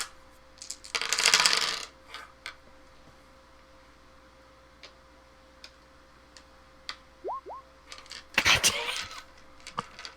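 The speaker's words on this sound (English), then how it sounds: "I rolled 9 dice and only got 2 successes" Several small dice clatter and tumble across a table in two brief bursts during a Vampire: The Masquerade tabletop RPG session, with quiet pauses and faint clicks between the rolls.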